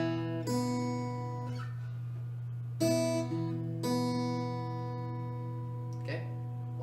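Fingerstyle acoustic guitar picks a short passage from a song, thumb and index plucking open strings, with three clear note groups ringing out and sustaining closely over a steady low hum.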